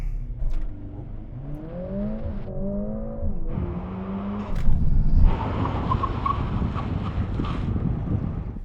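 A new Mercedes-AMG A45 S accelerates with rising engine pitch under heavy wind buffeting, then a broad rushing roar of tyres and air swells and holds as it brakes from 50 mph, heard from inside the car.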